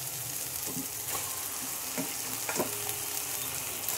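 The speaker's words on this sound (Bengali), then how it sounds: "এবার ভালো করে নেড়ে চেড়ে কষাবো এখন মশলাটাকে" Masala with tomato and green chili stir-fries in a pan for a duck curry, a steady close sizzle broken by several scraping stirs of the spoon.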